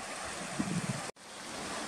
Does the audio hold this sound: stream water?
yes